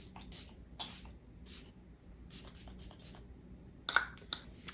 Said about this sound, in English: and then I'm just going to spray my face.